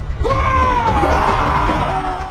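A Viking leader's huge battle scream from a TV drama, a long, loud, sustained yell with a rough rising-then-falling pitch, backed by crowd noise and clatter.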